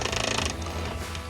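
A ratcheting wrench turns a bolt during disassembly of a Chevrolet C20 truck in a shop, giving a steady mechanical clicking with no talk.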